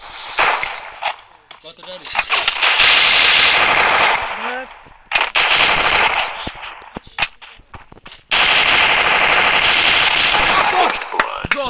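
Rapid bursts of video game machine gun fire in a shooting match, long loud sustained volleys broken by short gaps, with excited players talking over the shots.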